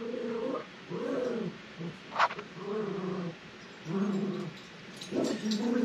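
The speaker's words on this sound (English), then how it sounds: "Probably hear my dog acting crazy in the background." A dog acting up nearby makes whining, howling and growling sounds in uneven bursts. The sounds are moderately loud, with no talking over them.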